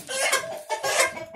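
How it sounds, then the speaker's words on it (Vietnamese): A chicken clucks in a Hmong village home, two short bursts of clucking close by and fairly loud, with no talk over them. "Ôi dồi, gà."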